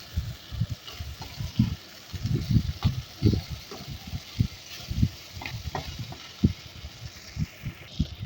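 Bata fish frying crisp in hot oil, with bursts of bubbling and popping crackles rising and falling in an uneven rhythm, fairly close and moderately loud, no talking.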